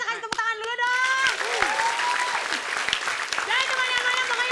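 A studio audience on an Indonesian TV game show claps steadily throughout, while presenters keep talking and calling out over the dense patter.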